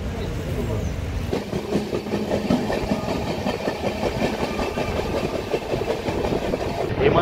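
Kagaznagar Superfast Express passenger train rumbling along with steady rail clatter and a constant low roar through the full stretch, its noise continuous and close as the train brakes suddenly.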